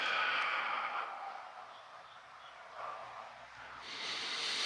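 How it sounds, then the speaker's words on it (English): Slow, soft exhalations through the mouth during a mindful breathing exercise, quiet airy breaths rising and fading in a calm, near setting. "Some say that it's effective to breathe in with the nose and out with the mouth."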